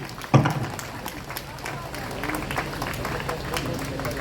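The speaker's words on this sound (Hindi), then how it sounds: "एक बार जोरदार तालियां इन सभी आपके टीचर्स हैं भाई" Applause for teachers at a student meet-up breaks out after a sharp bang and continues as loose, scattered clapping from a crowd, with voices heard over it.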